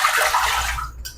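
Water poured into the mixer of a pasta machine, a steady close splashing rush lasting about a second before it cuts off abruptly, with no one talking.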